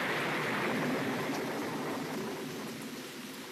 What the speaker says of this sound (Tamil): என்ன இவ்ளோ பலமா மழை பெய்யுது?